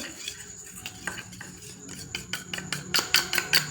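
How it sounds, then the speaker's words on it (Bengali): Flour and oil stirred together into a paste in a bowl, a continuous scraping of a metal utensil against the dish that quickens into sharp rhythmic clinks toward the end, close and without talk. "ময়দা আর তেলে মিশ্রণটা রাখতে হবে"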